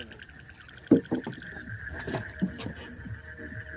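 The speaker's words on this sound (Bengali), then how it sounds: "একেবারে নৌকাটা চালানো শুরু" Oars splash and knock in the water with a few uneven strokes, close by, over a steady engine-like hum in the background.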